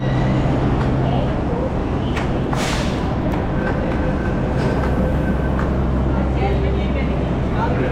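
Delhi Metro train running underground, a loud steady rumble and rattle from inside the carriage, with a brief whoosh and squeals, while people talk throughout.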